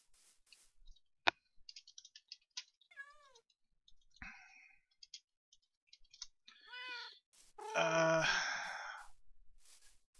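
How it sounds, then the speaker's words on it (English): Cats meow in the video game Minecraft, a series of short separate mews and a longer drawn-out call near the end, scattered among clicking sounds with quiet gaps between. "And these are my cats."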